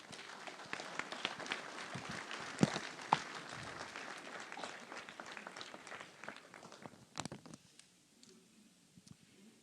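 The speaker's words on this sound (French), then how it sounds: "on peut l'applaudir même s'il n'est pas là aujourd'hui" Scattered applause from a crowd at a municipal New Year's greetings ceremony, fairly faint and uneven, thinning out in the final seconds to a few last claps.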